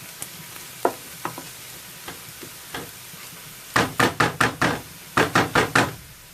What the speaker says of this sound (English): Garlic in now, and get that little bit slightly brown as well.